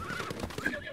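A horse in the video game Zelda: Breath of the Wild whinnies loudly and close, a bright wavering neigh over a dense background of galloping hooves.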